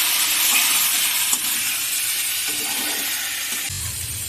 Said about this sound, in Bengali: এতে আলু দিচ্ছি, আলু দিলাম।